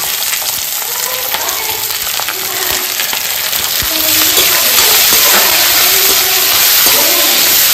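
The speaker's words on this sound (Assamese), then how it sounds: "এতিয়া কেৰাহীত অকণমান তেল দি দিলোঁ" Oil sizzles and fries steadily in a kadai in a home kitchen, a loud continuous crackle running the whole time with no talk over it.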